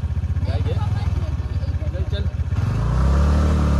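A motorcycle rides along a bad, rough forest road toward the Kalu waterfall in Malshej Ghat, its engine chugging in steady pulses and then revving harder, while riders talk over it.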